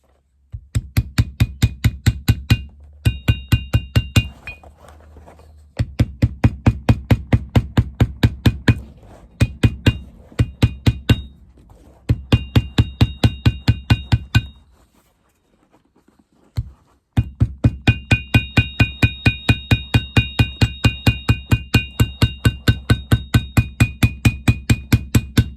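Small mini hammer tapping over the folded leather edge of a Stuart Weitzman boot, hemming it during a zipper repair; rapid, steady close-up taps in long bursts separated by short pauses, with a brief quiet stretch midway.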